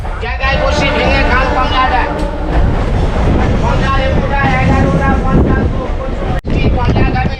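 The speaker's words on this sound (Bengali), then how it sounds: "হাওড়া থেকে ট্রেন বেরোতে আর ঢুকতে একটু সময় নেয় আর এই ট্রেনটাও ধীরে ধীরে এগোচ্ছে" A passenger train pulls slowly out of Howrah with a low, steady rumble and gusty wind buffeting the microphone, while a voice talks over it nearly the whole time.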